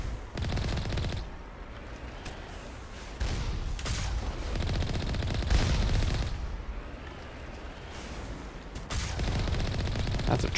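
Sustained bursts of automatic gunfire rattle close and loud in Mass Effect combat, coming in dense clusters broken by short gaps, with heavier impacts mixed in.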